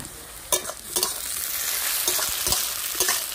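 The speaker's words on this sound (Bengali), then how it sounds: "টমেটো কুচিগুলো দিয়ে দেবো" Chopped tomatoes go into a frying pan with lightly fried onions for katla fish kalia, giving a loud, continuous sizzle broken by sharp spatula scrapes and knocks at irregular intervals.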